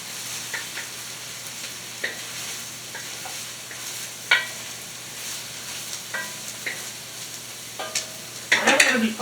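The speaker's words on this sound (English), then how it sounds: "Stir this up here. Don't want to burn onions or anything." Onions frying in a pan for homemade pasta sauce, a soft steady sizzle broken by intermittent scraping stirs, with a busier burst of scraping and clatter at the end.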